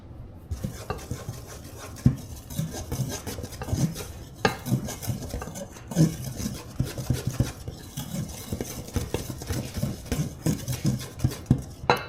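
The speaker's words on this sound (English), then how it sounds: "And then 1/2 teaspoon of salt. And then we're going to mix this together." A utensil mixes dry baking ingredients with salt in a bowl, giving a steady run of close scraping and light clinking strokes at a quiet level with no talk.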